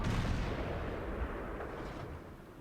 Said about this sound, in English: the Super Pershing was firing some very, very good shots